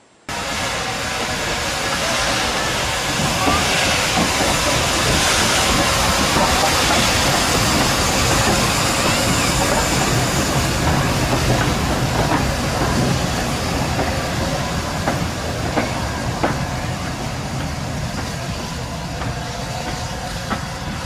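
A locomotive rolls slowly over a crossover onto the main line at Minehead station on a heritage railway. It gives a close, steady rumble with hiss and occasional clicks from wheels on rail joints, and no voices.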